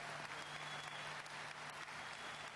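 A crowd at Shannon Sharpe's Pro Football Hall of Fame induction applauds in a dense, sustained wash of clapping that holds evenly loud throughout.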